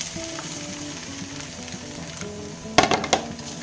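Vegetables hit a hot pan for a healthy fried rice, setting off a soft steady sizzle, then a few sharp clinks and scrapes of stirring near the end, with no talking.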